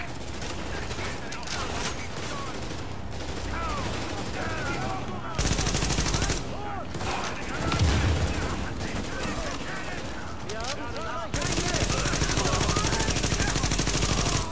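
Gunfire in the video game The Division, at Grand Central Station, rattles in rapid automatic bursts, loud and dense, broken by brief pauses, with voices talking in between.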